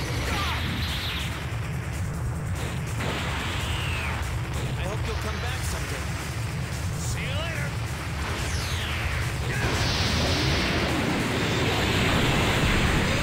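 Super Spirit Bomb attack in Dragon Ball Z Tenkaichi 4, Bardock versus Goku: a steady, loud roaring wash of energy noise with bursts and swells, growing heavier near the end, with game voices mixed in.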